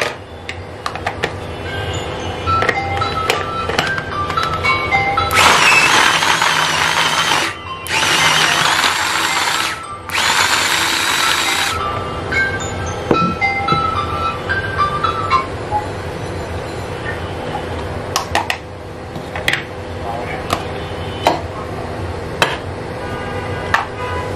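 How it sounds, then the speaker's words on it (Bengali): A small kitchen chopper machine chops green chillies in three loud whirring bursts, each a few seconds long and separated by short pauses, with scattered clicks and handling knocks before and after. "এখানে আমি এখন কুচি করে দেখাচ্ছি কাঁচামরিচ।"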